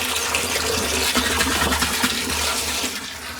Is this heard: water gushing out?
yes